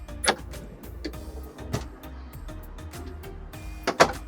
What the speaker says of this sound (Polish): Mamy tutaj możliwość wysunięcia szuflady cargo